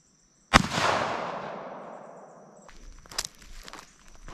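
A single sharp .22 Magnum gunshot cracks out loudly, its report fading over about two seconds, followed by faint clattering and handling sounds nearby.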